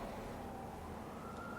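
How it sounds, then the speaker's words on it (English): Emergency sirens pass by outside, a faint, steady wail with a drawn-out tone heard from a distance through walls, with no talking over it. "Sirens going by."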